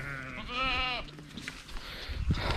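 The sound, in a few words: goat bleating on a goat farm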